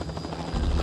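A helicopter in the survival horror game The Last of Us thrums as a steady rotor drone that swells louder toward the end, with no voices over it.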